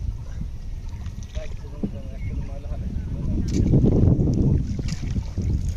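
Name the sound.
small boat moving on water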